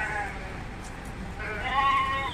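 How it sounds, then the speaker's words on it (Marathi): Sheep bleat near a rural temple area: one short bleat at the start, then a longer, louder bleat toward the end, over background voices and outdoor noise. "मेंढ्या मेंढ्या"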